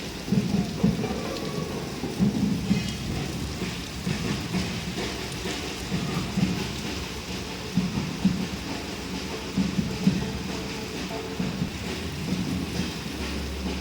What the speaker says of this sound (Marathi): भरपूर भरपूर पाऊस आहे विजा पण भरपूर कडकडत आहे